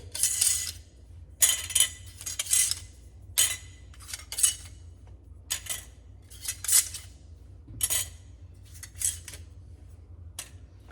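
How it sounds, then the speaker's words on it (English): Metal lids being pried off glass canning jars of pressure-canned raw-packed boneless skinless chicken thighs, a series of sharp metallic clinks and scrapes in irregular bursts, close and fairly loud, with no talk. "the next thing we're gonna do is we're gonna take off the lids"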